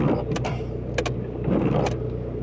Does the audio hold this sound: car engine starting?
yes